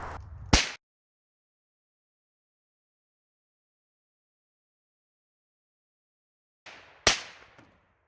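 Two sharp, loud cracks from a .17 HMR rifle round striking an armor vest, spaced several seconds apart with dead silence between, each followed by a brief rattling decay.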